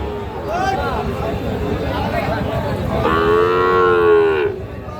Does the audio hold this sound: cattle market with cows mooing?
yes